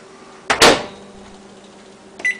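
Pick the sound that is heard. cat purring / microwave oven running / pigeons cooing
microwave oven running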